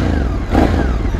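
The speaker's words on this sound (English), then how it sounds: "starting up for the first time on the Ducati Scrambler" A Ducati Scrambler 1100 Sport motorcycle engine with stock exhaust fires up close by, a low, rumbling idle with a brief rev swelling in the middle.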